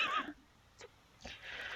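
Horse whinny from a video game, a short high neigh at the start followed by fainter snorting and movement sounds, with no talk over it.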